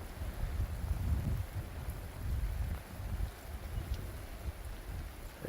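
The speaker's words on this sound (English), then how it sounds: "So I'm going to show you the thunder lightning." Heavy rain at a Kgalagadi campsite, pattering steadily and close with deep low rumbles of thunder rolling underneath, dense and continuous throughout.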